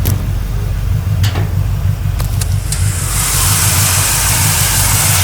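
A 1972 GMC Sierra Grande pickup engine runs nearby with small exhaust leaks, a steady low rumble and idle, a few sharp clicks, then a rising hiss as it revs slightly.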